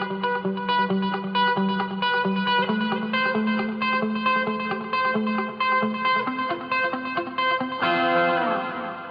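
Electric guitar played through an analog pedalboard with a dotted-eighth delay, a steady run of picked notes trailing rhythmic repeats and reverb, ending in a brighter strummed swell, with no voices.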